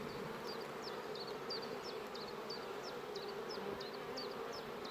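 Honeybees at spring apiary hives, carrying pollen loads, fill the air with a steady, dense buzz of many insects close by, with the high whine of individual bees passing near, and no voices.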